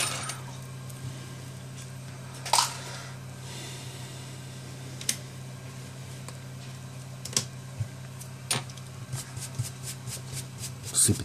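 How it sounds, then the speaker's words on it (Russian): Broken glass crumbs are picked and scraped from a cracked Sony Xperia Z3 display, giving scattered small ticks and clicks that grow more frequent toward the end, close up over a steady low hum. "Сыпется стекло"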